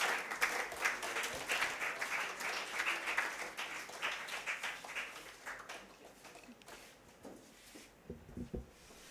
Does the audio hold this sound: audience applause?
yes